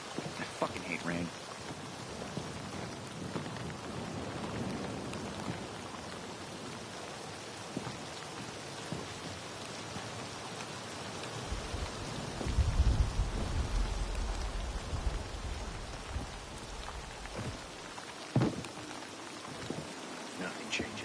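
Steady rain patters on surfaces in the video game Dying Light 2: Stay Human, with a low roll of thunder midway and scattered background talk over the downpour.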